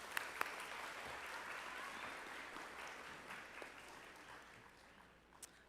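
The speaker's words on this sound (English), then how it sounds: "Can we give him another round of applause?" A graduation audience at Facing History New Tech High School's 2025 ceremony applauds a speaker, with soft, distant-sounding clapping that holds steady, a few sharper claps standing out early on, then thins toward the end.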